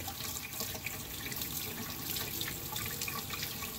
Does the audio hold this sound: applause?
no